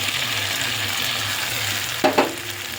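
Soaked Gobindobhog rice being sautéed with potatoes and spices for a katla fish-head muri ghonto: an even, close frying hiss, with two quick spoon knocks against the pan shortly past the midpoint.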